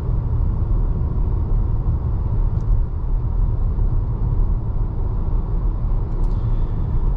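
Cabin of a 2024 Cadillac XT4 cruising at 45-50 mph through a neighborhood: a steady, even low road rumble and hum with no talk and only faint, brief ticks.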